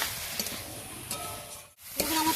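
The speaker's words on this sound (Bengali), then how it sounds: "এর মধ্যে দিয়ে দেবো টমেটো, একটা টমেটো। টমেটোটা একটু কষে নেব।" A tomato sautés with spices in a pan for an egg and lentil curry, a brief steady sizzle with a few sharp stirring scrapes and a short dip in the middle.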